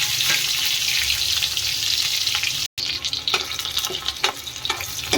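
Onions going into hot mustard oil with cumin and dry red chilli for kadhi: a steady, close hissing sizzle with a brief break, then crackling spits and scrapes, no talking.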